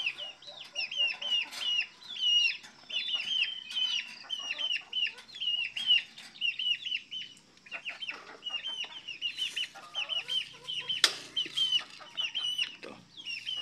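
Farm chickens cluck busily while being fed at a feeding tray in Batangas, a dense, steady chatter of many close overlapping calls with no voices.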